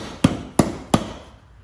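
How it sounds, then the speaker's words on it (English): A plastic dead blow hammer taps a plastic cap onto a John Deere lawn tractor wheel: three sharp, close knocks evenly spaced about a third of a second apart, then quiet. "I'm also using a plastic dead blow hammer just to make sure that it gets seated all the way"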